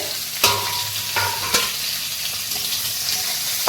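Cauliflower florets frying in a pan as they are stirred, with a steady sizzle broken by a few sharp scraping strokes of the spatula, close and loud with no talking.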